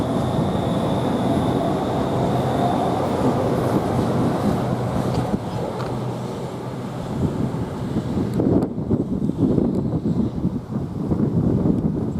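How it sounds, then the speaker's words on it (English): A Class 395 train, unit 395014, runs through Ashford International station as a steady, loud rumble with wind-like roar that holds throughout, shifting character near the end as it moves away. "I said that train went by."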